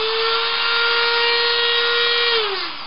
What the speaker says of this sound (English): Now I start cutting it with a Dremel.